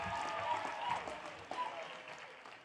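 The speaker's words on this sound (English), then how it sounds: "can we give a big round of applause to the people who funded this entire operation?" Audience at a College of Business commencement applauding the graduates' parents, a soft, distant wash of clapping that fades gradually over a few seconds.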